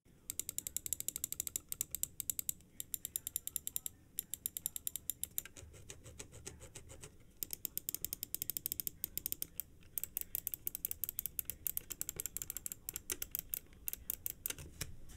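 Clicks and scroll-wheel turns on a Dream Machines DM6 Holey Duo mouse: rapid, sharp ticking bursts and ratchety runs of scroll notches, close up and fairly quiet, with short pauses between the sequences.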